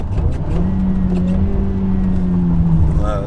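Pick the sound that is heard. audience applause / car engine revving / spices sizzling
car engine revving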